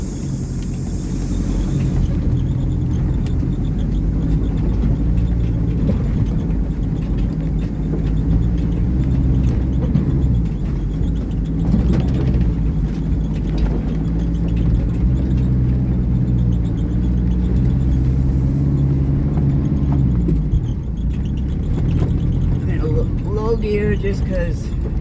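A lifted Mitsubishi Delica L300 with a 4-inch lift drives a wet, off-camber mountain trail in Taiwan, its steady low engine rumble droning close and loud for the whole stretch, with voices talking over it.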